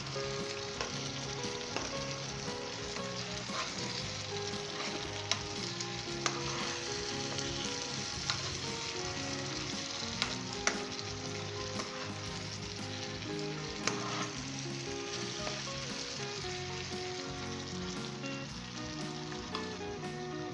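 Sweet potato sabzi sizzles and fries steadily in a pan while being stirred, with occasional soft clinks of a utensil against the pan over a continuous crackling hiss; no one speaks.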